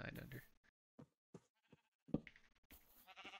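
Sheep in the Minecraft video game give a few short, clipped bleats amid sparse game sounds and footsteps, fairly quiet overall with gaps of silence between the cries.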